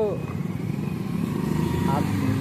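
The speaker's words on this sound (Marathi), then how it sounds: "एवढं ट्रॅफिक आहे तरी पण किती स्पीडने गाड्या" Motorbikes and cars rush past in heavy, fast-moving traffic, a steady engine drone with a bike revving by near the start and another near the end, people talking over it.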